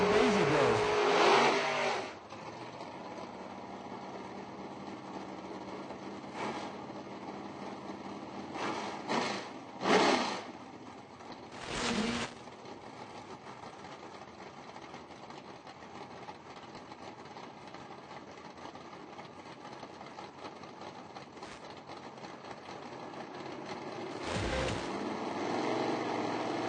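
Drag racing cars, including a Camaro, at a footbrake drag race: steady engine roar at a distance with a few louder bursts as cars pass, continuous throughout and fairly faint.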